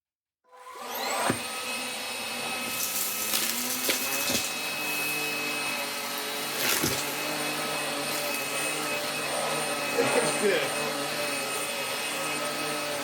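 A Philips U800 vacuum cleaner starts up and runs loudly and steadily, a high whining drone with a few knocks and bumps along the way.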